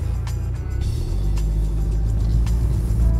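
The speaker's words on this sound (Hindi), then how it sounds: "गाड़ी जो है थोड़ी थोड़ी हल्की हल्की स्किड हो रही है ऑलरेडी" A BMW car driving on a road, steady engine rumble and tyre roar from inside the cabin, loud and continuous, with faint brief swishes that may be slight skidding.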